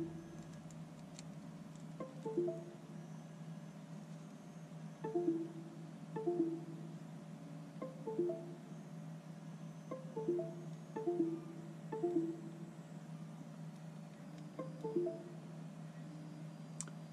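Erratic Vivitar 50-in-1 card reader repeatedly connecting and disconnecting on a PC, producing a recurring series of short ascending and descending system chimes in faint clusters over a steady low hum.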